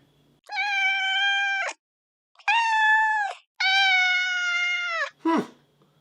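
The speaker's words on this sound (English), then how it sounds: "I'm talking about Cheesy the cat" A cat meows three long, drawn-out times with short pauses between, loud and close, followed by a brief higher squeak, with no other sound around it.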